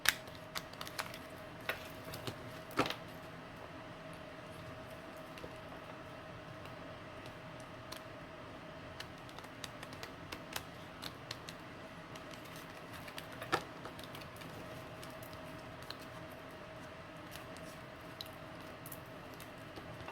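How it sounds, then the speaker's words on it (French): Tarot cards being shuffled and drawn from the top of the deck, soft rapid clicks and flicks in a quiet room, faint and close, with a few sharper taps scattered throughout and no talk. "Je mélange bien et je prends les cartes du dessus."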